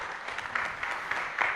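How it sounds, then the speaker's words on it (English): Brief applause from a conference audience at a national youth SDGs pre-conference, steady and moderately loud across the whole moment with no talk over it. "A round of applause for Cynthia."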